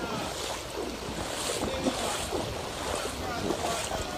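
Hurricane Elsa in Jamaica: gusting wind and rushing water pour into a pool in a constant roaring wash with buffeting wind noise on the microphone.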